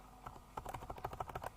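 Keys tap on a computer keyboard as a value is typed into a Flowgorithm flowchart program, a quick close run of light clicks in steady rhythm, starting sparse then speeding up, with no talking.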